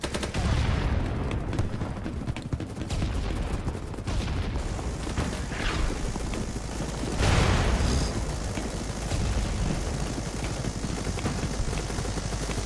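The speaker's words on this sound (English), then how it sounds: "Y'all really heard gunfire and went," Sustained automatic gunfire in the video game BattleBit Remastered rattles on and off, with heavier booming bursts mixed in, loud and dense throughout.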